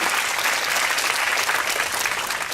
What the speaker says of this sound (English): And a round of applause for the organizing committee for their tireless efforts and their utmost dedication.